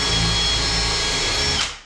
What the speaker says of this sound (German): Und gleich vorbohren für die Schrauben, die hinten hinkommen.